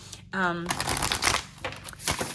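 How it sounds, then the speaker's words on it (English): An oracle card deck is shuffled by hand in quick, papery riffling bursts that run close and steady for about two seconds, after a short spoken word at the start. "I want to shuffle the green, which is Oracle deck."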